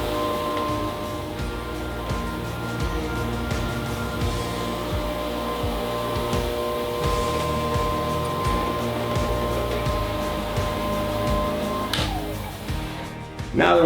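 A floor scrubbing machine works its pad across a resilient floor, a steady loud motor drone with constant whirring and rhythmic scrubbing noise throughout, ending with a brief change as it shifts.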